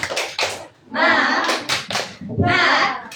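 A teacher leads a 'tepuk semangat' spirit cheer for a fifth-grade class, with quick rhythmic hand claps in short bursts mixed with a lively chanting voice close by.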